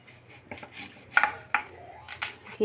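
A large onion chopped finely with a knife on a board, several quick irregular chops close by, fairly quiet and brief.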